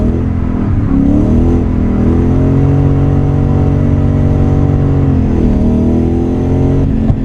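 A 1UZ V8-powered Nissan S14a 200SX pulls hard in second gear, a loud, steady engine drone that rises gradually in pitch, heard close from inside the car with no talk.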